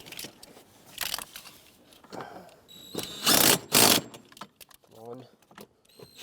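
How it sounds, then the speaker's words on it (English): A ratchet tightens three nuts on the blower motor of a 2012-2020 Ford Focus, bursts of rapid clicking with metallic rattles and handling noises, close by in irregular spurts, with a voice speaking briefly between them. "now let's tighten up those 3 nuts"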